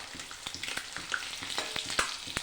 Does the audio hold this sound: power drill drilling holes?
no